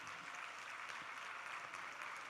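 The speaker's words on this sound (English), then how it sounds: "Give them a big round of applause" Faint, steady applause from an audience at a student awards ceremony, a continuous wash of clapping heard from a distance.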